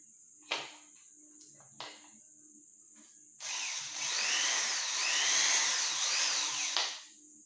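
A power drill fitted with a star bit gives two short bursts, then runs steadily for several seconds as it drives a star screw into a pipe, whining loud and close before stopping.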